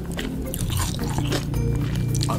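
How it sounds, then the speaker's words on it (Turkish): A woman chewing octopus for ASMR, with wet, squelching bites and crunchy mouth sounds captured close and loud over a couple of seconds. "Hiç pişmiş ahtapot sesi duydunuz mu siz oradan?"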